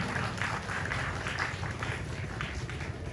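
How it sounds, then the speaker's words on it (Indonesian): An audience applauds at a Maulid Nabi celebration at a mosque. Steady, rhythmic clapping from many hands carries on throughout at moderate distance, and faint speech may sit beneath it. "Tepuk tangan untuk Bapak Irwan."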